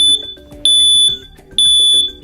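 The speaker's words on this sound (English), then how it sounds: "When an alarm is triggered, you'll hear a loud 85 decibel chirp to alert you." USI-1122L battery-operated ionization smoke alarm sounding loud, piercing beeps in a repeating pattern, three sharp pulses about half a second apart with a low hum underneath.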